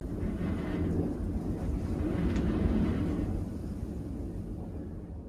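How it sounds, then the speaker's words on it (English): Wintry wind blows across a camera microphone outside a bus camper in a public hunting parking lot, making a low, rumbling buffeting roar that swells midway and then eases off, with no voices. "Can you hear that wind on the camera?"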